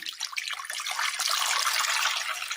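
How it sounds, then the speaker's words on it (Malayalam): Water pours in a steady splashing stream into a metal pressure cooker, close and continuous for a couple of seconds, with no talking. "ഒരു കുക്കറിലേക്ക് അല്പം വെള്ളം ഒഴിച്ചു കൊടുക്കാം"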